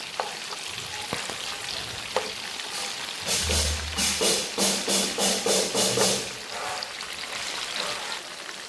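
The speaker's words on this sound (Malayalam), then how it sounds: "ഇതൊത്തിരി എണ്ണയ്ക്കകത്തുണ്ടല്ലോ, വറുത്ത് കോരി എടുക്കുക ചെയ്യുന്നത്." Chicken deep-frying in plenty of oil, a steady close sizzle that swells into a run of rhythmic louder bursts midway, likely from turning or stirring the pieces, then settles back to a bubbling hiss.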